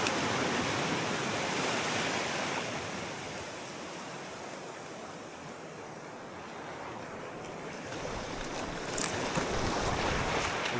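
Large ocean waves surge and wash continuously around a boat at sea, a broad steady roar of surf and wind that swells and eases, with no voices.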